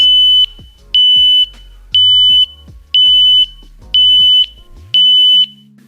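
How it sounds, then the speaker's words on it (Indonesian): Edifier X5 Pro wireless earbuds sound their find-my-earbuds alert, a loud piercing beep repeated six times at an even pace of roughly one per second, with no talk. "jadi pas kita tekan tombol search, earbuds akan mengeluarkan bunyi supaya kita tahu di mana letak earbuds-nya tersebut"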